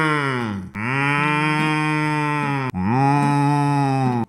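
A person imitates a cow with three long, loud, droning moos, each dipping and breaking briefly between calls, close to the microphone.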